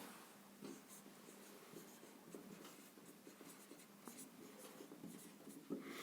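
Pen scratching across paper while a Class 10 maths solution on a right triangle is written out by hand, a steady stream of quiet strokes and taps with no talk.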